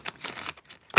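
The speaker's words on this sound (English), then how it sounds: "I gotta shuffle some cards" A deck of tarot cards is shuffled in a few quick riffling bursts, close and fairly soft, with brief pauses between them and a sharper snap at the end.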